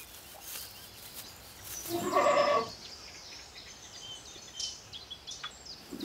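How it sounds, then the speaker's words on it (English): A single goat bleat as it sees its food arriving, moderately loud against a quiet outdoor background, with faint rustling afterward. "This bleating was recorded when a goat could see its food arriving"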